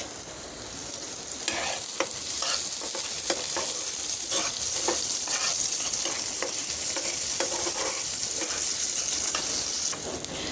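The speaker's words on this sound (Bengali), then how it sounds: "চুলোতে বসিয়েছি প্যানের মধ্যে দিয়ে দিচ্ছি তেল, দিয়ে দিচ্ছি পেঁয়াজ আর কাঁচামরিচ।" Onions and green chillies frying in hot oil in a pan on the stove, a loud, dense, unbroken sizzle with crisp crackles, heard alone.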